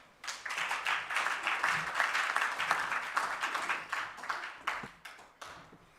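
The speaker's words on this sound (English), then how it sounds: "Can we give our chairperson another round of applause, please?" An audience at a stakeholder roadshow gives a short burst of applause that rises quickly. It holds as dense, even clapping and then thins into scattered claps over about six seconds, with no voices over it.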